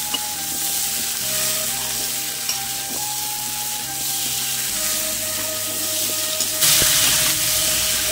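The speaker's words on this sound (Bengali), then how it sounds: "এই ডাটা কটা ভালো করে কষাই নেবো।" Vegetable stems and jackfruit seeds being stirred and fried in a pan, with a steady sizzle and scraping stir strokes throughout and a brief splash of running water near the end.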